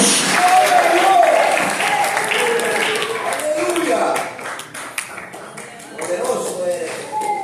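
A church congregation applauds a preacher's call, a dense wash of clapping that swells loud, dips around the middle and rises again near the end, with voices mixed in.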